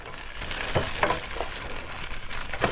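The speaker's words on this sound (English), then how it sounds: "bacon cooking up nice here. Tater tots are getting crispy." Bacon and tater tots fry together in a pan, crackling and popping in a dense, continuous sizzle with sharper spits scattered throughout, close and fairly loud, with no voices.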